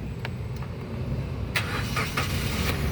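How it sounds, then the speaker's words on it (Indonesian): A 2014 Suzuki Karimun Wagon R 1.0 GX manual car with its engine cranking and firing up about halfway through, close and loud, after a stretch of steady low rumble. "Jika sudah aman, kita coba nyalakan mobil."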